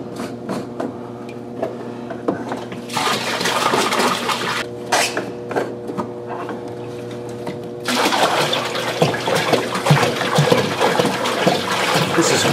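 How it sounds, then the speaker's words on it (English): Real ocean salt water glugs and splashes as it pours from a 5-gallon jug into a 400-gallon bowfront aquarium, with a quieter trickle between two loud, sustained pours. "Now time to put that 20 gallons of new salt water back into the tank."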